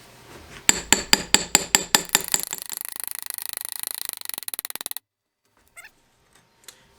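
A hammer taps the starter generator cap into place on a 1964 Cub Cadet 122 garden tractor. About seven distinct metallic strikes come first, then a rapid run of quicker hits, followed by a pause and a few faint clinks.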